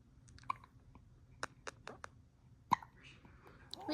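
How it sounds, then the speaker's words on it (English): A one-month-old baby hiccups several times in short sharp bursts, fairly close and quiet, with faint soft sounds in between. "We had the hiccups."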